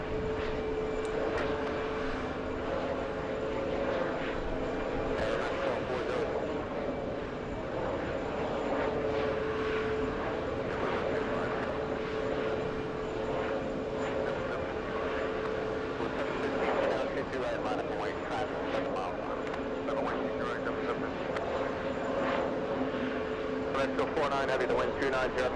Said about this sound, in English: exiting the runway